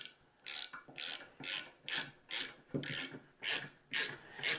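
A ratcheting driver tightens a screw joining wooden footstool legs and crosspiece, giving about nine evenly spaced rasping clicks, close and fairly quiet with nothing else heard.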